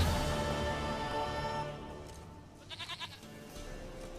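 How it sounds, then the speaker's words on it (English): Goat bleating in The Witcher 3: Wild Hunt, one short wavering bleat over a low game soundscape partway through. "Goat of mine!"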